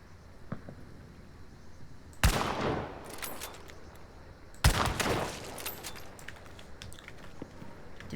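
Two sharp gunshots in the game Hunt: Showdown, roughly two and a half seconds apart, each a loud crack trailing into a long rumbling echo over a quiet ambient background.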